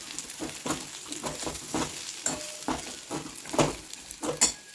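Green bananas (raw plantain) sizzle in a pan while being stirred, with repeated scraping strokes over a steady frying hiss and no talking.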